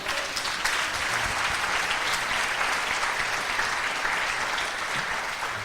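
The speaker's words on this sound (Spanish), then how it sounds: "Dale un aplauso al Señor." A church congregation at Iglesia Encuentro bursts into steady, dense applause during a sermon, clapping evenly and loudly throughout with a faint low rumble of voices beneath.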